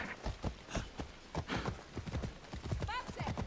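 Horse hooves clip-clop in a steady, fairly close rhythm while a horse is ridden in the video game Assassin's Creed Odyssey, with a brief whinny near the end and game sounds layered over it.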